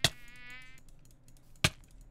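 A Minecraft mosquito whines in a short high buzz for under a second, framed by two sharp percussive knocks, one at the start and one near the end.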